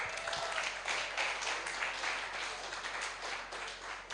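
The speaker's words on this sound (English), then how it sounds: "Clap for her." Audience clapping at a career development workshop for public servants, a dense, steady wash of many hands applauding together, sustained at even loudness for several seconds.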